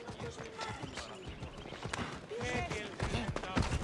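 A horse galloping in Assassin's Creed Odyssey, a steady patter of quick hoofbeats under a talking voice, moderately close, with faint game ambience behind.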